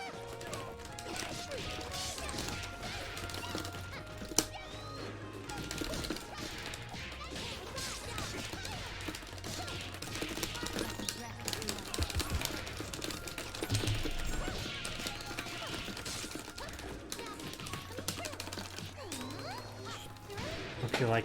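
Joystick buttons clicking rapidly during a Skullgirls fighting-game match, a busy clatter of close clicks and taps layered under game effects and music throughout.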